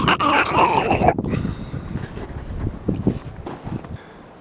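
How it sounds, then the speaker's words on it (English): Wind blowing across an open ridge on a hike at Talus Ridge in West Kelowna, BC, with steady rushing and buffeting gusts on the microphone, loudest at the start and easing toward the end, with no talk. "Here's the wind."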